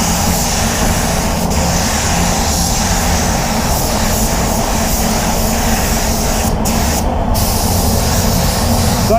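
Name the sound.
spray gun applying clear coat to a Lexus RX 350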